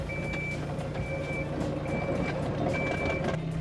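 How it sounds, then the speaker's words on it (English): A mini excavator backing off a trailer sounds a steady series of reversing beeps, evenly spaced tones over a constant engine rumble. "you can just reverse the excavator straight off the trailer using these two joysticks right here"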